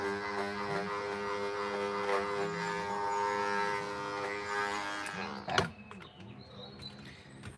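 Electric clippers shave a matted pelt out of a Persian cat's coat, a steady close buzzing hum with shifting pitch as the blade works through the fur, ending in a sharp clatter and softer handling noises.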